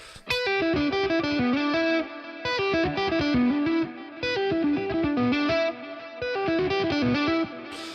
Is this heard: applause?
no